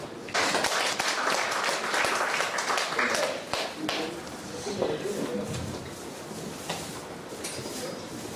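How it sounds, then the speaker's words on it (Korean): Applause from middle school students and audience at a filial-piety instructor selection presentation, a burst of clapping that is loud at first and then thins and fades, with talking mixed in. "자, 다시 한번큰 박수 드리겠습니다"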